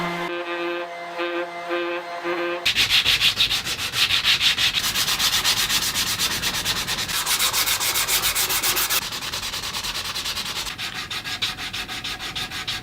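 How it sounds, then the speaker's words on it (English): A wooden guitar neck being hand-sanded, with steady, close abrasive rubbing strokes that continue without pause after a brief tonal musical opening; no talking. "followed by more sanding than you could ever imagine"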